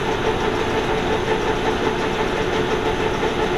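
A lathe runs steadily at 314 RPM with its carriage engaged, giving a continuous mechanical hum and whir at fairly close range without pause or change.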